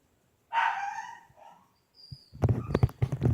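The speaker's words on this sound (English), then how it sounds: "Dogs barking like shit." A long crowing call rings out, then after a pause several dogs bark in quick, overlapping bursts outdoors.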